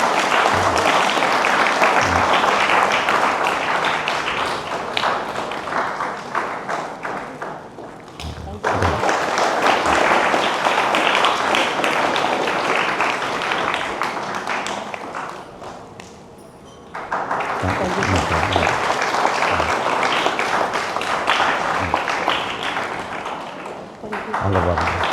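A church congregation at Christmas Midnight Mass in St Ann's Church, Adhanur, breaks into loud sustained applause in two long waves separated by a brief lull, with a voice speaking over it.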